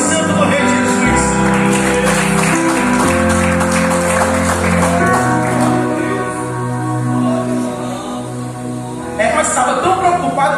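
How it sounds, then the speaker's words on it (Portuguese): A church congregation claps along during a Portuguese-language worship service, sustained applause blended with loud music and voices throughout. "Aplauda o nome santo do Rei Jesus Cristo."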